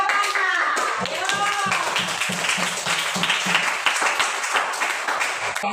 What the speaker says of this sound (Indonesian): Berarti tepuk tangan ke 8.